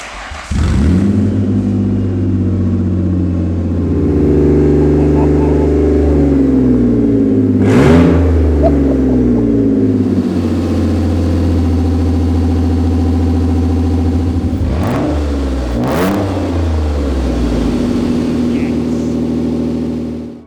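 A Ford Mondeo under restoration starts up after repair work and runs, its engine humming steadily with two sharp revs that rise and fall back to a rough idle, loud and close.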